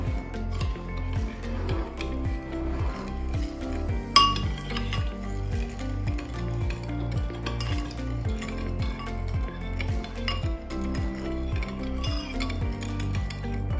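Lemon juice and granulated sugar are stirred together in a bowl, and a spoon scrapes and clinks in a steady repeated rhythm, with one sharp clink partway through, close and fairly loud, with no talking.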